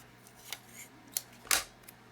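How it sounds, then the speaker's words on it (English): Tamiya decal scissors snip through masking tape on a scale model, three or four short, crisp cuts spaced apart, close and quiet with no talking. "Let me get my scissors on here. These Tamiya decal scissors are just amazing."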